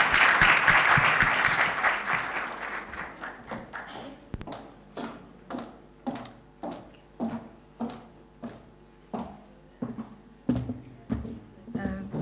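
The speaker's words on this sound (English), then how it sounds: "let's give Tshwane a round of applause" A crowd at a women-in-media speed mentoring event bursts into dense applause that gradually thins out into a dozen slow, scattered claps, evenly spaced and fairly close.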